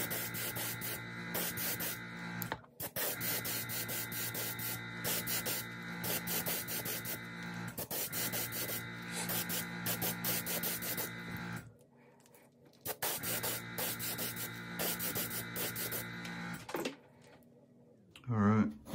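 An airbrush spraying paint onto a fishing lure hisses in long continuous bursts, stopping briefly between passes, with a soft compressor hum and a short pause near the end.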